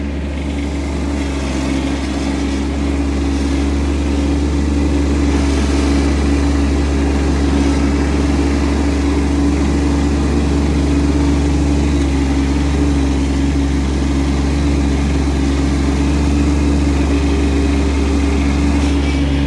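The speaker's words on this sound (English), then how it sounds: "I'm loading up the nesting mounds for next season with the front end loader." A front end loader's diesel engine runs steadily at a low, constant rumble, loud and close, while mounds are loaded for turtle nesting on an open farm site.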